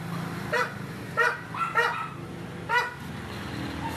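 A dog barks four times in short, separated bursts, fairly close, outdoors on a mountain, with a faint low hum underneath and no talking.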